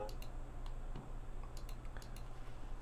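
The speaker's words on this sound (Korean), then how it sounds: "제가 마우스 잠깐만 누를게요." A computer mouse gives several light, quiet clicks at irregular intervals against a soft background hum.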